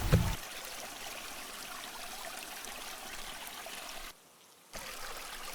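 Water cascading down the Dikrutpi (Belughat) waterfall makes a steady, even rush throughout, with a brief bump at the start and a short dip in the noise near the end.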